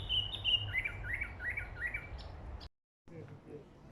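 A bird gives a quick series of bright, repeated chirps, fairly close, over low background rumble at the Nairobi Safari Walk in Kenya, then falls briefly silent before faint calls resume.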